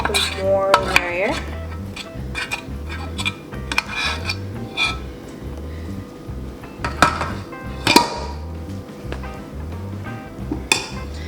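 A utensil scrapes and clinks against a bowl in steady, repeated strokes while chocolate and cream cheese are mixed together, close and fairly quiet.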